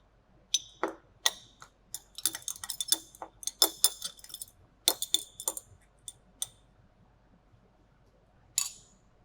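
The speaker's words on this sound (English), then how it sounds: "Or we can stir the contents in the Erlenmeyer flask by swirling the Erlenmeyer flask around." Sodium hydroxide solution being stirred in a glass Erlenmeyer flask: a series of light glassy clinks and ticks at irregular intervals, close and fairly quiet, with a lone final clink after a short pause.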